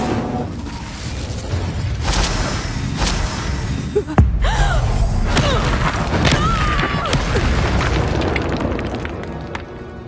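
Fire spell cast in Hogwarts Legacy, a loud booming burst with a sharp thump midway, layered over dense game effects and rumbling background through the whole stretch.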